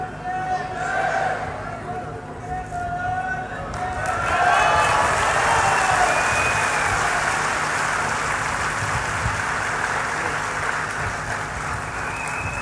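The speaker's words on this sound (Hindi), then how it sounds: "एक बार ताली बजाओ झूम के" An audience claps along at a religious gathering after a girl's recitation, with steady applause under a voice and crowd murmur, swelling louder midway and holding to the end.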